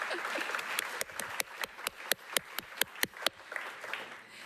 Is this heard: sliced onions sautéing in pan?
no